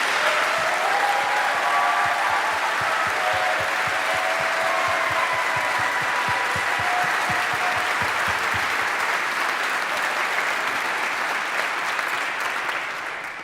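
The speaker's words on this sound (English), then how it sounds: "Let's give them a huge round of applause." A large Harvard audience breaks into a huge, sustained round of applause during a ceremony before an oath of office, a thick roar of clapping that holds steady at full strength and barely fades toward the end.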